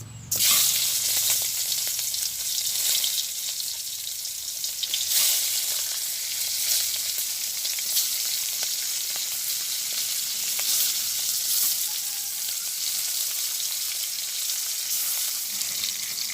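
Hilsa fish frying in a hot kadai in a village kitchen, a loud, bright, continuous sizzle that flares as the fish hits the oil and then settles into a steady hiss.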